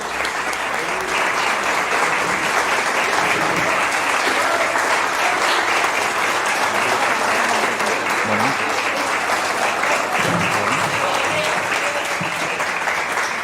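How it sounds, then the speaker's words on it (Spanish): A studio audience greets an arriving guest with loud, sustained applause, dense clapping that holds steady throughout with faint voices mixed in. "a Miguel, que lo vamos a recibir con un muy fuerte aplauso"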